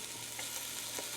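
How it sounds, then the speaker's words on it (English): Chopped onions softening in a pot for home-canned beef stew give off a steady, quiet sizzle, a soft continuous hiss with faint stirring scrapes and no talking. "So I'm gonna let the onions just kind of soften here for a couple minutes"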